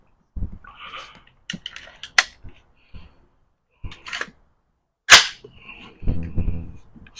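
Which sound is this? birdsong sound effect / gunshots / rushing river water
gunshots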